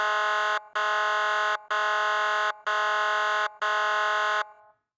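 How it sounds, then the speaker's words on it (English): Five loud, steady siren blasts with short gaps between them, a harsh droning tone used as a sound effect in a sci-fi horror narration, with the last blast trailing off into silence. "not until the siren blasted for the 3rd time"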